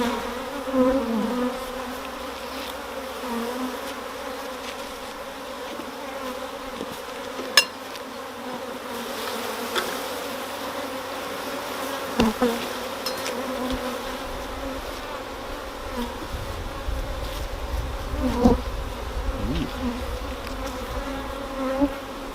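Honey bees hum steadily around an opened hive during a colony inspection in Derbyshire, a close, continuous drone with a few sharp knocks and clicks of frames being handled.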